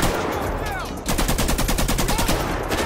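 Rapid automatic gunfire in a GTA 5 street shootout, loud and close, with a brief single shot followed by sustained rattling bursts that continue almost without pause.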